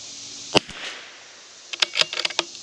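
Rifle shots from a CZ 457 rimfire fitted with a Timney trigger: one sharp crack, a pause, then a quick run of several closely spaced cracks, all fairly loud and crisp over a quiet background.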